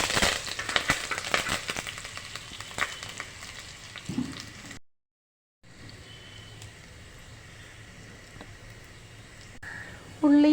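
Onion, green chillies and curry leaves hit hot oil with popped mustard seeds for a fish curry, giving steady crackling sizzle with sharp spits early on, a brief gap, then a quieter continuous fry and a final clatter.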